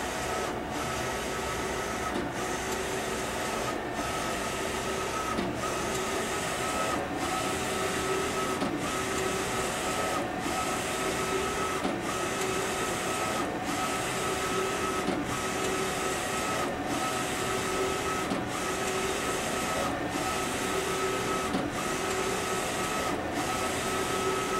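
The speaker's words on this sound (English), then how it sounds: "It's going to bring the print head out and begin to print the design." CAD-COLOR print head printing a design: a steady mechanical whir and hum with the carriage sweeping back and forth in regular passes about every one and a half seconds, moderately loud and continuous, no talk.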